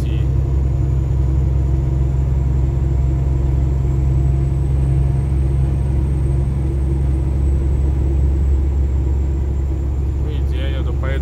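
A 1972 Kenworth W900A truck cruises on a highway, its engine a steady loud low drone with road rumble throughout, faint talk beneath.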